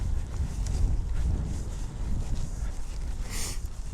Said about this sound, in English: Ooh, it is really windy.